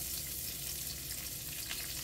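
A frying pan sizzles quietly as cooking starts for a fresh spaghetti tomato piccata, giving a soft, continuous hiss and crackle with no talking.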